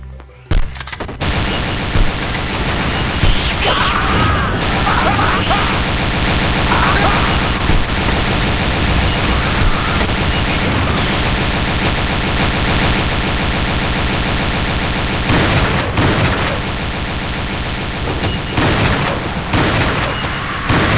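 An automated sentry turret in the Aliens: Eradication mod for Doom 2 fires long, loud, rapid bursts of automatic gunfire that continue almost without pause, with a few brief drops.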